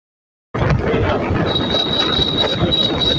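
Train passing over a railway underpass, starting abruptly after a short silence and rolling on as a loud, close rumble of wheels on rails with a thin high squeal joining partway through.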